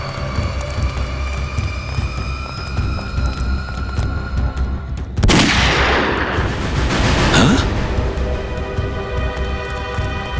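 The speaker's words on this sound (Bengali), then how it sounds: "গুলি চলার শব্দ।" A single sharp gunshot cracks out loud and near, followed by a rolling rumble and echo over steady dramatic background music and drone.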